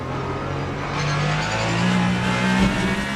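A race car engine in the Le Mans Ultimate sim racing game at Interlagos drones steadily with a thin electric whine, swelling slightly midway and running unbroken with no talk.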